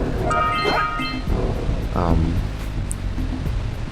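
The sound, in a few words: waterfall in the video game Jak and Daxter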